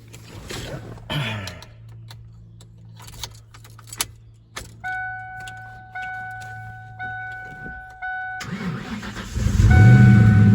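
A Ford Mustang GT SN95 cranks and fires up near the end, its engine catching into a loud, close rumble after key jangling, rustling and a steady repeating chime from the car.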